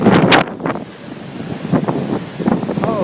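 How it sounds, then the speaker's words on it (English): Strong wind from Hurricane Irene in 2011 roars across an exposed microphone in a flooded parking lot. The gusts swell and buffet loudly and close, with no speech over them. "That was a big gust of wind."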